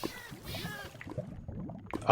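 A Minecraft cat gives a few short meows close by, mixed with soft game noises.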